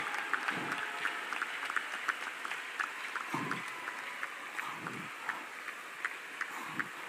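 A church congregation at a youth convention clapping in a steady, scattered patter of many hands, moderately distant and fairly soft, with a few louder bursts of voices rising briefly above it.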